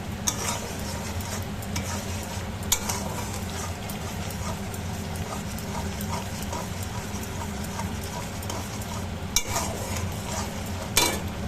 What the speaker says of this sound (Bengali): এটা ভালো করে ফ্রাই করে নিই